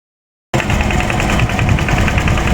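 A farm machine engine starts up abruptly and runs steadily and loudly close by with a rough, even drone, being taken to a flooded rice field; no one speaks.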